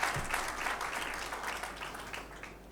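An audience at a Gujarati poetry and ghazal event applauds together in a fairly faint, distant wash of clapping that slowly fades out over a couple of seconds.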